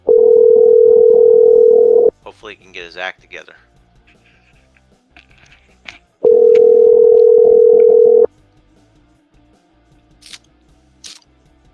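Two long steady telephone dial tones sound loudly, each about two seconds, separated by someone speaking; after the second tone a quieter lower tone continues with faint clicks and short beeps near the end.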